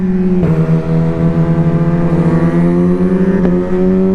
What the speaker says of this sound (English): I think that's his bike popping.